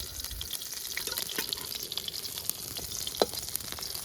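Fish sizzling in hot mustard oil in a home kitchen pan, a steady close crackle and hiss running throughout with faint scraping and a small clink near the end, no voices.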